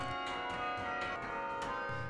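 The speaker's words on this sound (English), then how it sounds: "the tolling chimes in the McGraw Clock Tower have provided a reassuring heartbeat to campus life" Bells of the McGraw Clock Tower chimes at Cornell University ring out with sustained, overlapping metallic tones, several strikes sounding in sequence over a lingering resonant hum.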